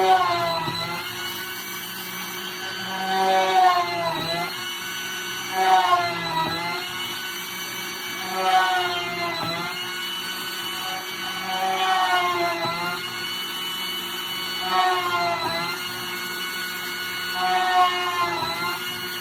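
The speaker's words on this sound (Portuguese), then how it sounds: "com uma broca bem fina, eu vou começar a fazer todas as perfurações da chapa" A thin drill bit bores pilot holes through a metal sheet, a steady whining drone with harmonic tones that rise and dip in repeated cycles, swelling every few seconds as each hole is drilled.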